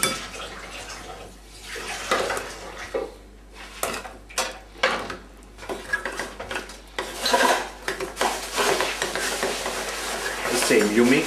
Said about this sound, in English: you mix very energically till all the granules of mascarpone have been homogeneated into the cream